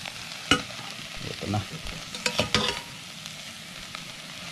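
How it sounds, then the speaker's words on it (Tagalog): Grasshoppers frying in a pan as cooking oil goes in, a steady close sizzle with a few sharp stirring scrapes and clicks in the middle, while a voice says a couple of brief words. "so pwede na natin lagyan ng mantika, mga idol"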